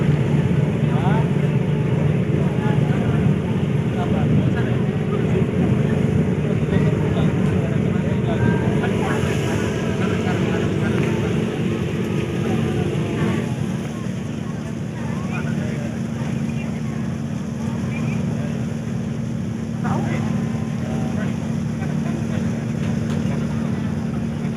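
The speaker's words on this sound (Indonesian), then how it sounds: "kapal mulai putar akan menuju Sangir" Small boat turning to head out toward Sangir (Tahuna): a steady, close engine drone with wind and water noise that shifts in pitch partway through as the boat gets underway, with people talking in the background.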